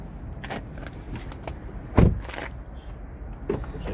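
Kia XCeed door mirrors motoring as the car locks with keyless entry, a brief soft whir and clunk nearby with a few small clicks around it, heard outdoors at close range with no talking.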